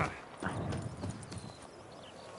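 Horse hooves clip-clop in The Witcher 3, a steady rhythmic trot of close, soft thuds over a dull background murmur that fades slightly toward the end.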